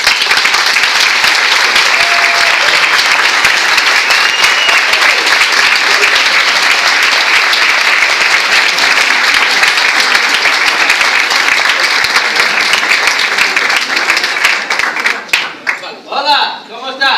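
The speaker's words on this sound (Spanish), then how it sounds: "vamos a dar paso a recibirlo con un fuerte aplauso" A large audience claps loudly and continuously for Jeff Yager at an Amway event, a dense sustained wall of applause that tapers off at the end as a voice begins.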